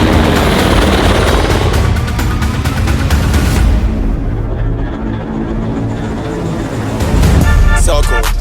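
A helicopter heard up close, with a loud, steady roar and rotor noise filling the whole stretch. It dips slightly in the middle and swells again near the end, while voices may sound faintly underneath.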